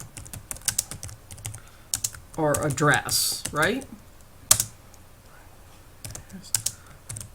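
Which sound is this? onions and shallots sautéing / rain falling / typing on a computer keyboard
typing on a computer keyboard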